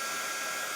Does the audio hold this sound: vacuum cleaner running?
yes